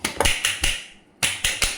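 Sharp taps against a greased pan of dhokla batter, about seven in two quick groups separated by a short pause, close and fairly loud with nothing else around them.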